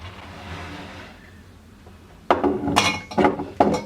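Hot glass jars clink and knock against each other as they are lifted out of boiling water for canning menemen, several sharp bright clinks in quick succession after a quiet stretch.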